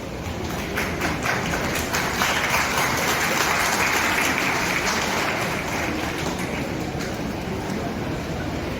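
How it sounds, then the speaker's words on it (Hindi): A college audience in Jamshedpur, India, claps to welcome its teachers, a dense, steady wash of many hands that lasts about nine seconds with little talk. "आप तमाम स्टूडेंट से हमारा रिक्वेस्ट होगा कि आप अपने टीचर्स का तालियों से इस्तेकबाल करेंगे।"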